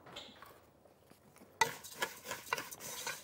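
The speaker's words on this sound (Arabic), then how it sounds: "عشان نحط الشعريه تتفلفل هنديها تقليبه" Vermicelli being stirred in a pot, a quiet stretch giving way to soft scraping and light clinks of a utensil against the pan with faint patter, close and alone.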